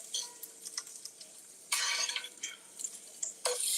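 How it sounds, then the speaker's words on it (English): Crisped potatoes are scraped and lifted from a skillet, with soft clinks and scrapes of a utensil and a couple of louder bursts of sizzling as pieces are moved. "I'm going to remove my potatoes from the skillet"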